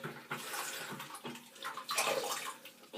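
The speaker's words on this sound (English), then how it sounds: "run some water on the brush and clean it a little bit." Tap water runs over a shaving brush as it is rinsed at a sink, a close, uneven splashing rush that swells and dips over a few seconds with no talk.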